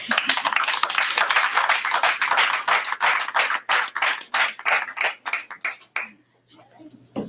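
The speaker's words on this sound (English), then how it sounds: "How about a round of applause?" Applause for a girls' team and their coaches at a board meeting, dense clapping from a room of people for about six seconds, thinning to a few scattered claps before stopping.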